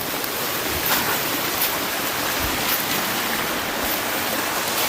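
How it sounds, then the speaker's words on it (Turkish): A waterfall in a city forest pours continuously, a broad steady hiss of rushing water that fills the scene evenly from start to finish, fairly close and loud. "Bu şelalenin en yukarısına kadar yürüdük."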